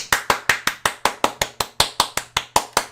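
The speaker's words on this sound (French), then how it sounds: "Applaudissez-le tous avec moi." Rhythmic clapping in applause for a doctor who freed a woman's finger from a stuck ring: sharp, close, evenly spaced claps, about four per second, with nothing else heard.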